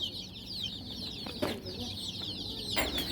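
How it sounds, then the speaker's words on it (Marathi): A batch of freshly hatched pure gavran native village chicks kept in a mesh brooder peep constantly in shrill, overlapping high chirps, with a few soft clucks breaking through the steady chorus. "प्युअर गावरान पिल्ले आहेत मित्रांनो."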